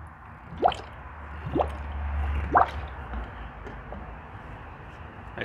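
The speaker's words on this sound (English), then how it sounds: "I squeezed the tube." Coolant squeezed from a tube during a car coolant flush drips and squishes in a few soft, separate wet plops over a low steady hum, close by and fairly quiet.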